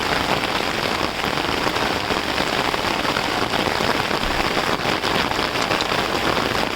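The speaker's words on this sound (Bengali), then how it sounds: "ছাতার উপরে টপ টপ টপ টপ বৃষ্টি পড়তেছে" Heavy rain drums on an umbrella outdoors at night near a railway line, a loud, dense and unbroken patter held close.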